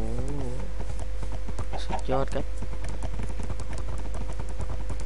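Horse hooves clip-clopping in Minecraft version 1.6.2, a steady run of light hoof knocks that carries through the clip under and between a man's speech.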